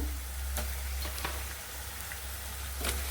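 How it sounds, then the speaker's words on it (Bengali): Shrimp frying in oil with onion, a continuous moderate sizzle with a few light ticks and clinks of a spoon, close, over a low hum. "আমি এখন ইচা মাছটা দিয়ে একটু ভাজবো"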